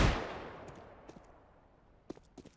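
Gunfire in Counter-Strike: one sharp shot decays at the start, followed by a few faint distant cracks later on.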